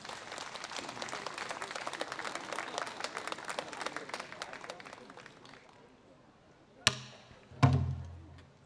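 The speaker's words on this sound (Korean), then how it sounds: "큰 박수 부탁드립니다." Audience applause and scattered clapping fill a Korean traditional music concert hall for several seconds, fade out, then a couple of sharp pansori drum strikes ring out.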